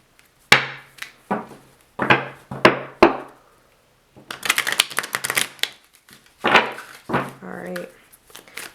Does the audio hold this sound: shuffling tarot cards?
yes